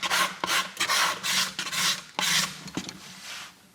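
Repeated strokes of a luthier's hand scraper across a wood surface, a series of close, raspy scrapes in quick rhythm with brief pauses between them, clear and alone.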